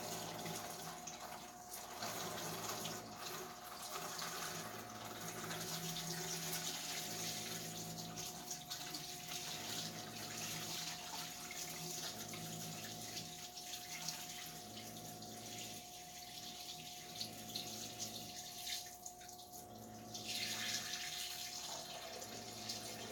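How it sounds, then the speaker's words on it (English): Water pours slowly and steadily into a betta fish tank during setup, a continuous trickling wash with a low periodic pump-like hum underneath, close and unbroken for the whole stretch. "Start slowly pouring the water in here."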